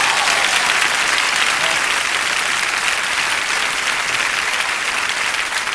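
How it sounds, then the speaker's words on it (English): A large crowd applauds at a motivational business talk, dense and loud, a continuous roar of clapping that holds steady from start to finish with no voices over it. "Give me a round of applause right quick."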